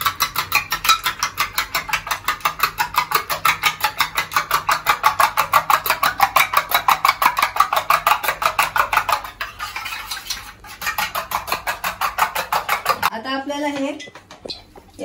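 Eggs beaten briskly in a bowl make a fast, steady rhythm of clinking utensil strikes that runs for many seconds, then slows and changes near the end, where a voice joins in.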